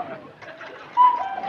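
A cuckoo clock sounds a single clear, bird-like call indoors, with a soft coo-like tone rising out of a quiet room.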